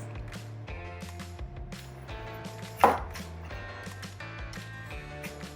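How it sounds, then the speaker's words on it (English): A knife chops an onion into halves and quarters for hamburger patties, a series of light, fairly regular cuts with one sharper, louder strike midway, over a steady tonal background. "So you're going to cut your onion in half, and then you're going to cut it in half once more"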